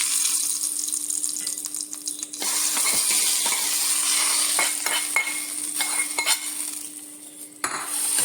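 Hot tempering with fried onions tipped over a chicken curry crackles and sizzles up close, mixed with clinks and scrapes of a metal pan and spoon, settling into a quieter sizzle by the end.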